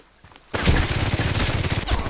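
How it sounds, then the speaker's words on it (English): Rapid automatic gunfire rings out in the online shooter video game Contract Wars, a dense sustained burst that starts abruptly after a brief quiet moment. It is loud and continuous, with a short pause near the end before the shots resume. "He's shooting at us."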